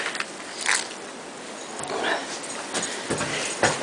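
A dog just back from a walk in a snowstorm makes close snuffling, whimpering and rustling sounds in short bursts, moderately loud, with no clear speech.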